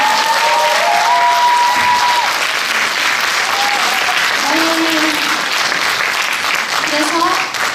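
An audience at a traditional Korean music and dance performance by a Silla geum ensemble in Gyeongju bursts into loud, dense applause that holds steady throughout, with a few faint voices or tones rising above it.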